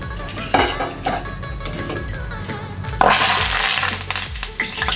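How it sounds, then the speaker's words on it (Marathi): Roasted poha chivda mixture with dal and curry leaves moved out of the pan, with metal utensils clattering and scraping against cookware, close and loud in quick irregular clanks. "सर्व मिश्रण आपण याच्यावरती काढून घ्यायचं असं।"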